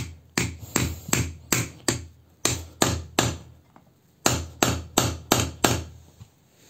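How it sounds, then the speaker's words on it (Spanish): Hammer driving a new alternator bearing into its housing on a Nissan Tiida with a bearing installer shaft, sharp metallic blows in three quick bursts of four to five evenly spaced strikes, close and loud with no talk. "proceden a darle unos golpes al valero para que entre en la carcasa"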